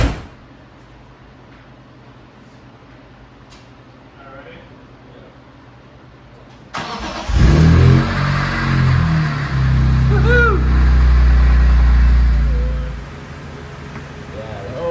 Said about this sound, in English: then we're gonna start up the car